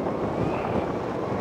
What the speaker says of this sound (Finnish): täällähän on tämmönen kohtuukova tuuli